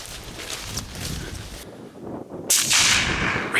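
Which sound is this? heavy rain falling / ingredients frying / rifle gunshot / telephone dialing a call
rifle gunshot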